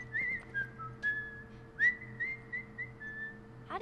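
A person whistles a short melody of clear, sliding tones at close range, with a low hum underneath and no talking.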